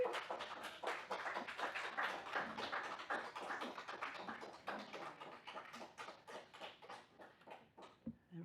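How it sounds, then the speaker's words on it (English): Applause from a public gallery fills a council meeting room, a dense run of many hands clapping at a moderate distance that holds steady for several seconds and thins out toward the end. "we just had a rousing round of applause from the public gallery"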